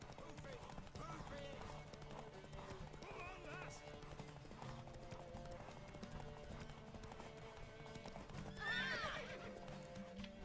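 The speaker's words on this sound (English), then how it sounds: "Oh, my horse is about to get tired," A horse in The Witcher 3 runs with a steady clip-clop of hooves, heard faintly under a voice talking over the game, with a short neigh near the end.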